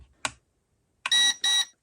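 An Eachine 520S GPS drone pairing with its remote gives a short click, then two loud electronic beeps in quick succession, heard close up in quiet.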